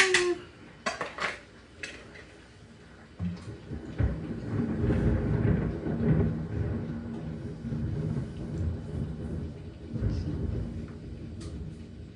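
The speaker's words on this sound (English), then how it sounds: "That's good old thunder." Deep rumbling thunder rolls in and swells, lingering low and heavy, with a few sharp clinks and knocks of kitchen utensils near the start as dough for tea cakes is mixed.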